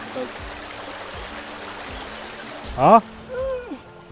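A mountain river stream flows steadily in a steady, broad wash of water that fills the scene, with a brief burst of other sounds near the end.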